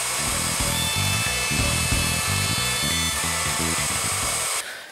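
A power tool rounds over the back edge of a small wooden stand for an iPhone or iPod. It gives a loud, steady, high-pitched whine with a pulsing low hum that runs nearly five seconds and then cuts off abruptly at the end.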